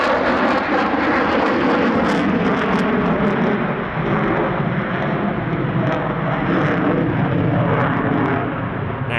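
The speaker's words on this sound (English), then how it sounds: "The F-22 is about to perform the J-turn, an abrupt pull akin to a cobra" An F-22 fighter jet at the Australian International Airshow 2023 roars loudly and continuously overhead, a broad sustained engine rumble with a rough, crackling edge throughout.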